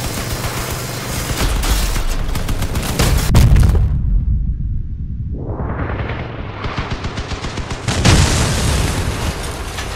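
A relic Reaper machine gun in the vehicle combat game Crossout fires in heavy, rapid bursts mixed with deep booms and explosions. The fire pauses briefly near the middle, then the loud volleys resume.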